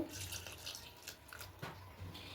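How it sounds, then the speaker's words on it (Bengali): Water is poured into a cup of sour yogurt in a kitchen, making a brief, faint trickle and splash heard close by, with no voices. "নিয়ে একটু জল নেব নিয়ে এক কাপ জল দিয়ে দেব"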